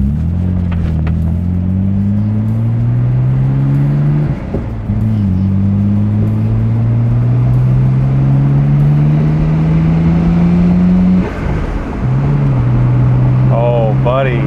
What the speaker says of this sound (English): we're driving my GTR